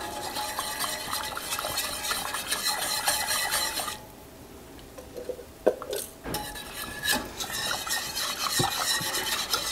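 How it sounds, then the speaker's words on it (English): A spoon stirring vanilla and honey syrup for baklava in a pot, with continuous scraping, rasping strokes that pause briefly midway before resuming, close and clear with no talking. "I'm going to stir this."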